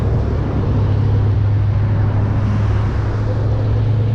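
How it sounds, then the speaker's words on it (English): A steady, loud stream of road traffic rushes by at close range beside the Westside Belt Line, with a constant low engine hum and broad tire noise. No one speaks over it. "you're so close to cars over here"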